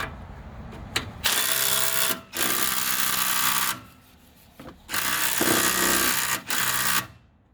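Loud power drill running in bursts with a socket, swivel and impact extensions stacked on, working under a Dodge Cummins truck; two long whirring runs separated by short pauses and quick stops.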